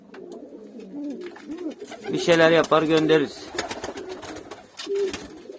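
Pigeons coo in a soft, warbling run near the middle, with someone talking in Turkish throughout before and after.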